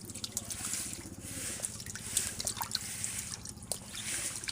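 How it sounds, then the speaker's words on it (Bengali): Duckling chicks splash and paddle in water while bathing during heavy rain, giving soft, quiet dripping and small splashes in a steady, irregular patter close to the microphone. "দেখুন পানি দিয়ে ওরা কত সুন্দর করে গোসল করতেছে"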